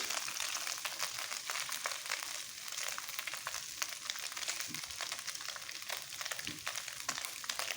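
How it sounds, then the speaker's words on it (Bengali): Taki fish frying in a pan gives off a steady, fairly quiet crackling sizzle with faint occasional pops, heard alone without speech. "ভালো করে ভেজে নেব মাছের সবগুলো কাটা দেখে নেব মাছগুলো করে সুন্দর করে ভেজে নেব"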